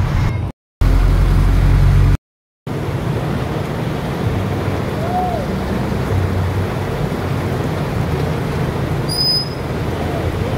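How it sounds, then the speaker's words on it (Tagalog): A strong current of floodwater rushes downhill after heavy rain, giving a loud, continuous roar with wind buffeting the microphone that runs steadily throughout, broken only by two brief dropouts near the start. "ang lakas ng agos ng tubig dahil doon sa taas kasi yun ang galing guys papuntang baba"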